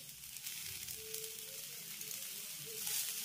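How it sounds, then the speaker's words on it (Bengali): Finely chopped beans and cauliflower go into a pan with lightly cooked carrots for a leftover-rice dish, giving a faint, steady frying hiss with a soft stir or two. "এবার আমি এর ভিতরে অ্যাড করব কিছুটা বিনস কুচি আর কিছুটা ফুলকপি কুচি।"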